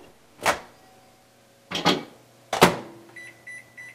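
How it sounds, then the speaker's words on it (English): A few sharp knocks and a door slam, then a short series of high electronic beeps as a microwave is set, with a low hum underneath. "So I'm just going to go put that over in my microwave here."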